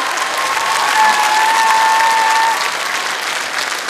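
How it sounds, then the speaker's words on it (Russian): Studio audience applause on a Ukrainian comedy game show, steady dense clapping filling the room at full level throughout, with no one speaking over it. "Аплодисменты Елене, спасибо."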